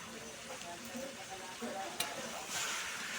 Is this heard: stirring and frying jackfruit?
yes